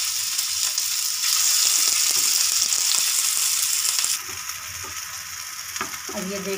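Galawati kebabs lowered gradually into hot oil to shallow fry, giving a loud continuous sizzle with scattered crackles and light scraping, easing somewhat partway through, no voices over it.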